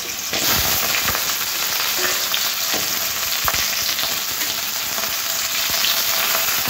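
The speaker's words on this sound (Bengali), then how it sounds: "তেলটা গরম হয়ে আসলে এখানে আলুর টুকরোগুলো তেলের মধ্যে দিয়ে লাল লাল করে ভেজে নেব" Potato pieces frying in hot oil in a wok give a dense, loud crackling sizzle, close-up and continuous, with a few sharper pops scattered through.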